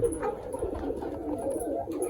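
Soft, low pigeon cooing, repeated throughout in a steady murmuring rhythm, close by with no talking.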